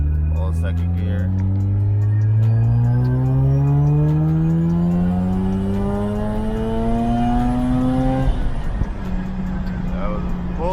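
A Mazda RX-8 pulls hard in second gear, its engine note climbing steadily in pitch and loudness for several seconds before lifting off and dropping back, heard from inside the car.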